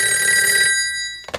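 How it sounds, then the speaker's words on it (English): A telephone bell rings loudly and continuously for about three-quarters of a second, then cuts off, followed by a brief faint clatter. "suffering every time that phone rings"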